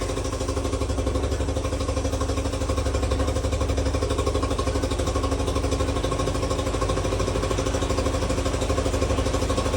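A 1986 Honda CT110 motorcycle engine idles steadily close by, a constant low putter with slight mechanical clatter and no voices.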